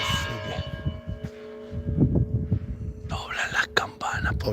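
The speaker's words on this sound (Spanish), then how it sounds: "Están doblando las campanas, pobrecito." Church bells toll slowly for a death in a Spanish town street, ringing at moderate distance beneath close murmured and whispered talk and outdoor noise.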